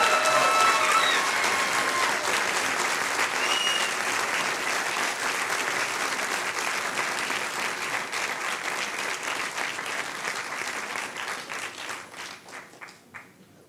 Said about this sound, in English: One more huge round of applause for the Yes Men.